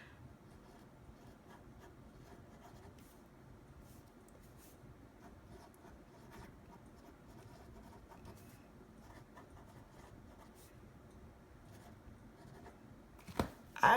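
A fine-tip gel or ballpoint pen, such as an InkJoy, Pentel, Pilot G2, Uniball or Sharpie, writes large letters on paper, giving a soft, steady scratching and rubbing that runs throughout, close and quiet, ending in a louder tap.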